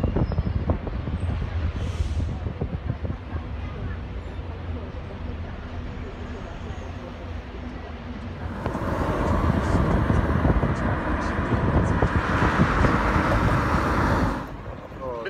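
Interior of a taxi riding through Shanghai streets: a steady engine and road rumble throughout, swelling louder and brighter in the second half before easing off near the end.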